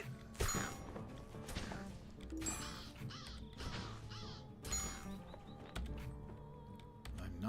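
Crows caw in short harsh bursts during a fight in the Lord of the Rings Online game, mixed with thumping combat hits and soft clicking, all fairly quiet.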